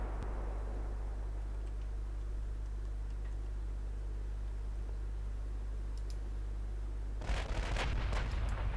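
Naval guns firing in the battleship game Ultimate Admiral: Dreadnoughts, a sharp burst of several overlapping booms and crackles near the end after a long low steady hum of ship ambience.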